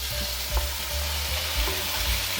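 Tomato, onion and black olives stir-frying in oil in a pan, a dense continuous sizzle with a few soft thumps of stirring, close and even throughout.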